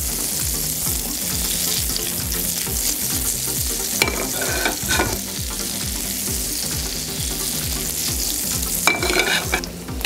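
Mixed vegetables fry in butter in a pan over medium-high heat for a cheese omelette, a steady close sizzle with rhythmic scraping of a spatula stirring them, and no talking.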